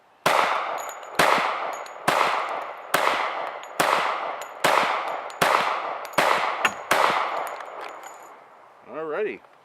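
Nine sharp gunshots from a Hi Point carbine in .45 ACP fitted with an MBS 95 bullpup conversion, fired at a steady semi-automatic pace, loud and close, each with a short ringing tail, followed by a brief murmur at the end.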